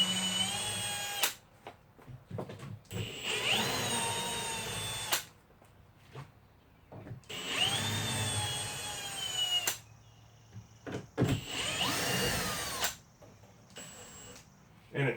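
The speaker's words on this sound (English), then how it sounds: "the first thing I want to do is pull these top 4 screws that I put in out" A power drill backs screws out of a shed door frame during a shed-to-tiny-home conversion, several loud close whining bursts of a few seconds each, rising in pitch as the motor spins up, separated by short pauses.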